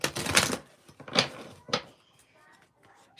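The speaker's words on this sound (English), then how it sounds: "I'm gonna shuffle these some more" Playing cards shuffled by hand in a quiet room: three or four short, crisp riffling bursts, close and fairly loud, separated by softer rustling and small clicks.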